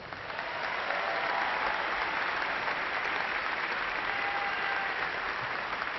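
An audience at an Angelo State University fall commencement ceremony applauds the graduates, a sustained, dense round of clapping that swells quickly and holds steady from a large crowd.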